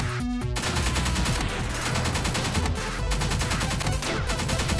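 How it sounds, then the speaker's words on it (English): Rapid gunfire in the video game Pineapple Smash Crew, a dense, continuous stream of closely spaced shots layered over game music. It is loud and steady throughout, with no talking. "all I'm gonna do is shoot it now"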